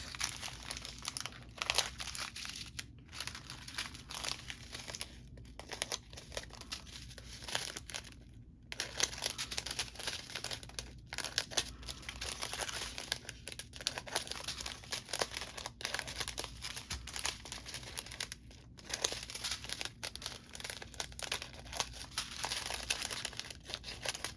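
Plastic diamond art kit bead packets being cut apart one by one with scissors, a steady run of close crinkling and crunching plastic with brief pauses, no talking.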